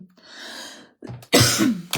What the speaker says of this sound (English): I know it's so annoying to listen to someone cough